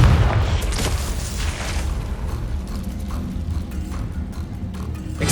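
A Confringo blasting spell going off in Hogwarts Legacy: a heavy, rumbling explosion with a sharp onset, then sustained low roar and crackle that continues at steady loudness.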